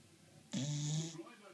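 A bulldog snoring close by, one loud rasping snort that lasts about half a second and then fades into softer breathing.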